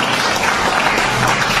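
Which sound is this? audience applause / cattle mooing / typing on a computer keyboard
audience applause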